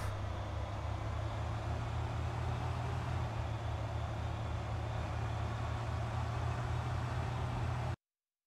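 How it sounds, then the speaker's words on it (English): A stolen car drives off in Thief Simulator, a steady, droning engine rumble at constant loudness for about eight seconds before cutting off abruptly, with no talk. "So you'll steal the car and then drive off."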